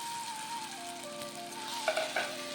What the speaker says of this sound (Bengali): আলু মটর দিয়ে খুব ভালোভাবে কষিয়ে নেব